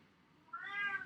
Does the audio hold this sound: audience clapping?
no